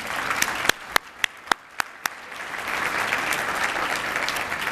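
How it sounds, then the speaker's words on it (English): Applause breaks out at a foundation luncheon as two honorees stand, opening with a few sharp, separate claps that quickly swell into a steady, moderately loud round of clapping. "a round of applause"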